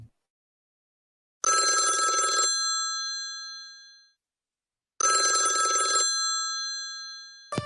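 A telephone bell rings in two long electronic bursts about three seconds apart, each trailing off into silence, loud and close with nobody speaking, followed by the start of a third ring at the end.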